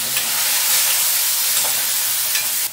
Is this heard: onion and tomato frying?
yes